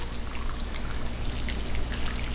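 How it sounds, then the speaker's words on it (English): Hot water pouring steadily onto sugar to make a thick syrup for feeding bees, a continuous splashing trickle heard up close with no talk over it. "so just hot water into sugar"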